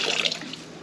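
Water splashes and trickles as extra water is poured into a turkey brine made from a Pit Boss brine kit, a brief, steady, close pour with no talking.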